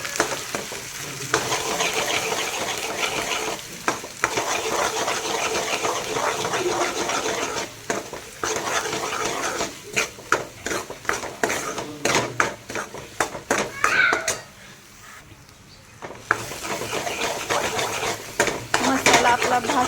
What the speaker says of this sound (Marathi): मसाला आपला भाजतोय.